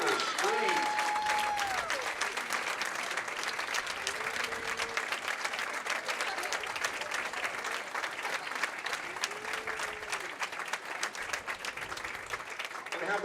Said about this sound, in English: And how about a round of applause for Hayden Terrace on his first